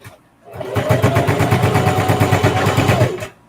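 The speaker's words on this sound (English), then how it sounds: "Let me just sew it down just a little bit." A sewing machine stitches down a quilted zipper pouch in one steady, rapid run of about two and a half seconds, with a clear mechanical rhythm and quiet pauses before and after.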